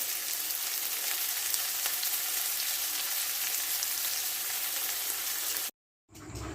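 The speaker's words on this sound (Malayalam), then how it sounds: "നല്ലപോലെ ഇളക്കി കൊടുക്കുക ഒന്ന് വഴണ്ട്" Sliced onions with salt sautéing in a pan for an egg curry, giving a steady bright hiss of frying that runs alone without talk, then cuts to silence near the end before the sizzle briefly resumes.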